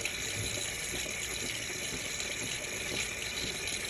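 A DeLonghi Magnifica S coffee machine dispenses frothed milk after a full service, producing a steady, fairly quiet hissing, gurgling flow that continues evenly with no talking.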